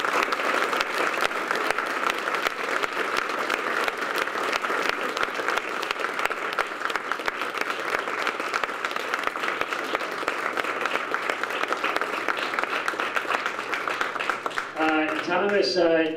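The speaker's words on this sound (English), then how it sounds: "I would like to get a big round of applause to Thomas Linzey" Sustained, dense applause from an audience at a Colorado Community Rights Network meeting, steady and loud for about fourteen seconds before a voice starts talking at the very end.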